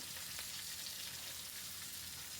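Hilsa fish pieces fry in hot oil in a pan, a faint, steady hiss and crackle at a distance that continues without a break and with no voices.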